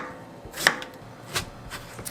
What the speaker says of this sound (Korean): 단단한 호박이 푹 삶아지도록 잘게 썰어주셔야 해요.